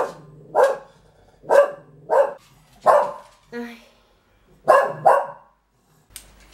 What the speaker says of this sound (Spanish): Se estuvo ladrando porque ha visto algo por la ventana.